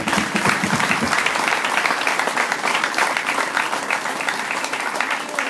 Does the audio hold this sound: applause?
yes